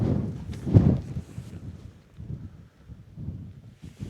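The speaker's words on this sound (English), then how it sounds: "I don't know if the porch will hold up in the wind" Gusty wind buffets a campsite tent during a thunderstorm, with irregular low rumbling blasts and microphone buffeting that swell and fade, close and fairly loud, with no talk.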